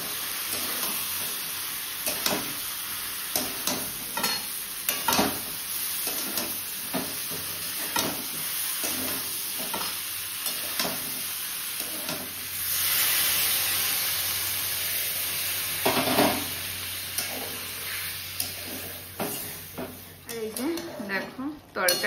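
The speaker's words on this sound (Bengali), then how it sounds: "এবার ফুলকপিটাকে দিয়ে দেবো।" Cauliflower tossed into a pan of fried spice masala, a long stretch of sizzling with repeated stirring clatters and a louder hissing swell partway through, while a voice talks intermittently in the background.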